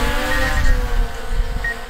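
A small drone with freshly replaced propellers spins up for takeoff in a backyard, giving a loud, close, steady buzzing whine with high tonal propeller harmonics over a low rumble, lasting about two seconds.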